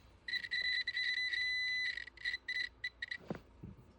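A multimeter on continuity test beeps against a Maytag dryer thermal fuse, a steady electronic tone holding for over a second, then breaking into short broken beeps as the probes lose and regain contact, quiet and close.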